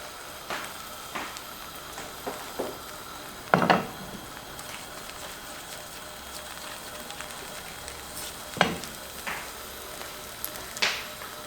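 Egg for a frittata fries in a pan with a steady soft hiss, punctuated by a few sharper clicks and scrapes of a utensil against the pan at irregular intervals, no talking over it.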